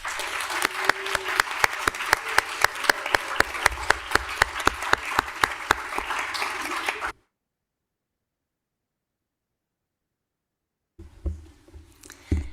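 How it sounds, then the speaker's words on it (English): A round of applause at a city council meeting following a National Library Week proclamation: brisk, evenly spaced clapping for about seven seconds, then abrupt silence before faint room noise and shuffling return. "How about a nice round of applause?"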